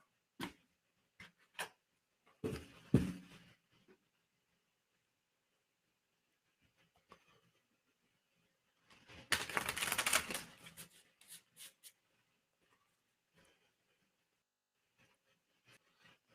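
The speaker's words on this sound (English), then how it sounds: "And I can finish shuffling this deck." Brisk riffling bursts of cards being shuffled, a short flurry early on and a longer one midway, with quiet pauses and scattered taps between.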